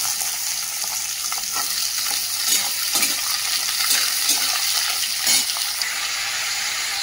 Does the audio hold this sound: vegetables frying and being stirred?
yes